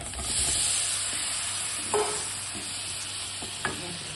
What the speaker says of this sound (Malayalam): നല്ലോണം ഒന്ന് വഴറ്റാം അധികം കരിഞ്ഞു പോകരുത്